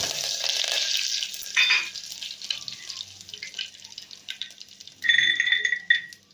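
Mustard seeds, cumin and curry leaves hit hot oil for wheat rava upma, giving a loud steady hiss that eases midway, then a sharper sizzling burst near the end; no voices.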